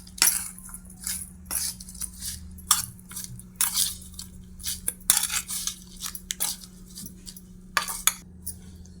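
Bitter gourd pickle with oil is mixed in a bowl with a spoon, giving close, irregular metallic clinks and moist crunchy squelches in quick bursts over a low steady hum.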